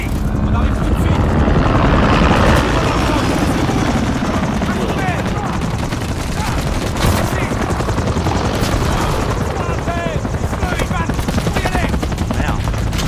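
A helicopter from the Call of Duty MW3 campaign roars loud and close throughout, its steady rotor thrum mixed with bursts of gunfire and battle noise, with voices heard in the mix.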